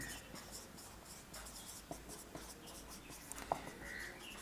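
A marker or chalk writes the word "corresponding" on a board with faint, soft scratching strokes and a few light taps, quiet and close over low room noise.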